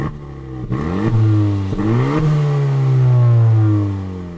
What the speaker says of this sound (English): I would like a little bit more growl from this engine